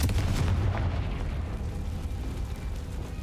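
Confringo fire spell explosion in the Hogwarts Legacy video game, a loud deep booming burst that rumbles and slowly fades out over a few seconds.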